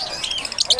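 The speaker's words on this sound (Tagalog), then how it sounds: "Sulit ang mga ibon dito" Birds at a pet market in Bocaue chirp in quick, high, bright bursts, several overlapping calls growing busier toward the end amid background murmur.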